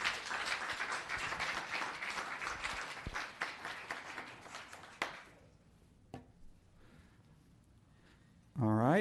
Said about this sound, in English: One more round of applause for Franklin.